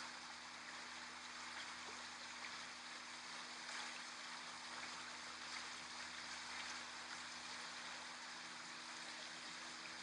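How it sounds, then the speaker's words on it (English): A meandering autumn stream spills steadily from one rock pool to another, a continuous soft trickling wash that stays even and unbroken throughout, with no voices present. "the sounds of the water spilling from one rock pool to another"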